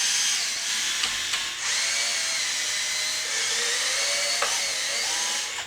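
A power drill backs screws out of an XMAXX RC truck, a steady high-pitched whine held close up for several seconds, with brief dips in pitch as the load shifts and no talking.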